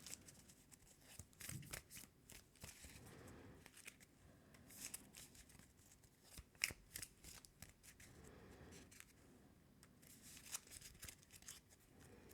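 Deck of game cards being shuffled at a table for the card game Earthborne Rangers, a series of soft riffling and sliding bursts with short pauses between them, quiet and close.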